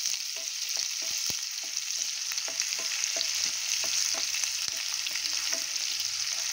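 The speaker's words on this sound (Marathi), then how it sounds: "ती पण आपण पेस्ट आता तळून घेणार आहोत ह्या तेलावरती" Ginger, garlic and cumin paste fries in oil with a dense steady hiss, dotted by light spoon taps and scrapes at an irregular pace, close and alone without talk.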